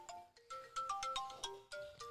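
A phone rings with an incoming call, playing a bright melodic ringtone of quick repeated note phrases, clear and close, with no voices over it.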